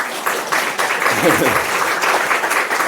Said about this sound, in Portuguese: muitas palmas para o Thiago